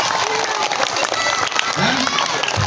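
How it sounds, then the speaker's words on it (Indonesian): Children at an elementary school anti-bullying session clap in a dense, lively burst of applause with scattered cheers and young voices, loud and close, lasting only a few seconds. "Tepuk tangan untuk Kinara."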